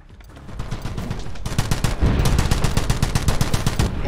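Rapid bursts of automatic gunfire in the video game The Club, building from a lighter start into dense, loud, continuous rattling volleys.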